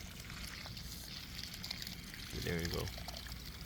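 Water poured onto a newly transplanted, wilting potted tomato plant, a steady close trickle and splash running throughout, louder near the end, with a person speaking briefly over it.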